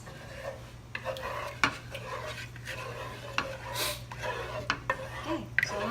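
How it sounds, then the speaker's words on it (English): Stirring a pot of sweet rice liquid for Kapampangan bibingkang kalamay as it reduces toward syrup, soft scraping strokes with occasional clinks of a utensil against the pot over a low steady hum. "keep on stirring until it reduces the liquid until it becomes syrup"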